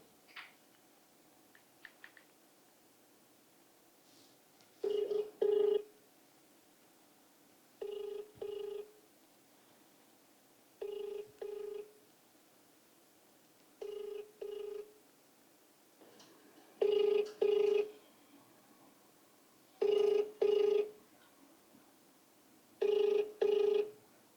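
A telephone rings out on a call to a PCC president, with double-pulse rings repeating about every three seconds against a quiet line hiss and no talk.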